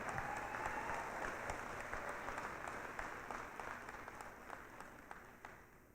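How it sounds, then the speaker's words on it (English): A graduation ceremony audience applauds the associate degree, LPN and one-year certificate graduates. The clapping is sustained, even and somewhat distant, easing off gradually over several seconds. "let's have a huge round of applause for our AA degrees and LPNs and a one-year certificate"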